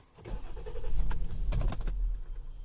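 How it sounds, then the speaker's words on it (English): A Ford car with keyless ignition starts at the push of a button, the engine cranking and catching into a steady low rumble that holds for a couple of seconds. "just like you'd normally start it, hit the start button."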